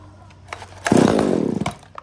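Used Japanese-market chainsaw, one of a STIHL, ECHO, Komatsu or Shindaiwa lot, catching on a pull start: a brief sputter and then a loud, close two-stroke buzz lasting under a second before faltering.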